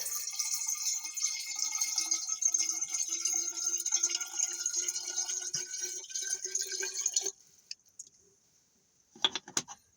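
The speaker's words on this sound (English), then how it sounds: "We're pouring water in here." Water pours into a container in a steady running trickle for several seconds, then stops abruptly, followed by a few faint clinks and drips; fairly quiet, with no talking.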